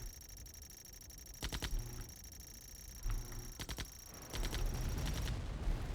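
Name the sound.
gunfire in video game Command & Conquer Remastered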